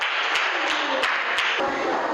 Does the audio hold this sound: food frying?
no